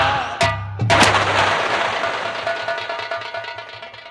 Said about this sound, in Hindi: ये पटाखे दगाना बंद कर दो, क्योंकि आज दीपावली है।